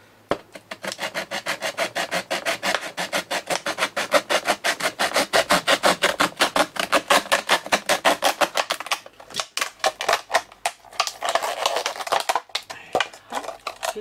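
Cutting part of a homemade hanging yarn ball organizer rack with a hand saw, fast steady rhythmic rasping strokes close up, speeding into a choppier burst toward the end.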